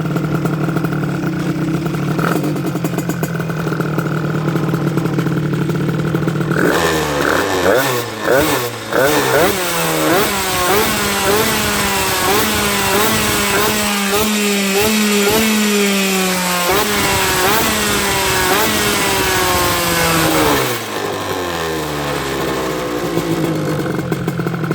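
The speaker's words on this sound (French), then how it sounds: "On va essayer de donner 2-3 petits coups de gaz pour voir." An MBK 51 hybrid moped engine fitted with a 12V gel battery sputters at idle, then takes a run of quick throttle blips that rise and fall sharply before settling back, loud and close.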